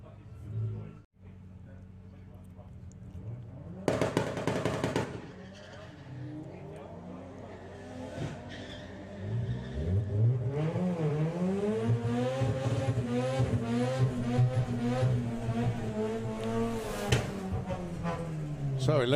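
Drag race cars, including an Audi TT, roar down the strip at a VW drag racing event at Santa Pod, engines revving hard and rising in pitch as they accelerate, with a commentator talking over much of it.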